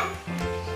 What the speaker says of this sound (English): This is the first dog we have ever had.